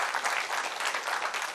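Short burst of audience clapping at an EFT workshop, a steady patter of many hands heard at moderate distance, with no talking over it.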